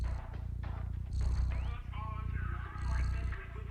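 A cat purring in the Stray game trailer, a low rhythmic rumble swelling in two louder waves alongside soft music and ambient sounds.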